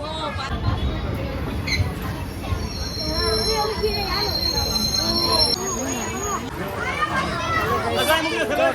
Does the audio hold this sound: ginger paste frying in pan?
no